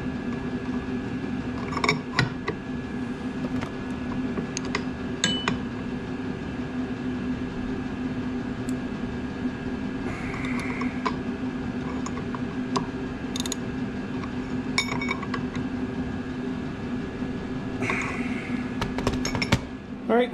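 Hand tools tighten the clutch on a SeaDoo supercharger, with repeated ratcheting clicks and scattered metallic clinks over a steady mechanical hum, close and moderately loud.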